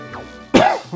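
A single sharp congested cough from someone still clearing a chest cold, close and abrupt, followed by a brief throat sound.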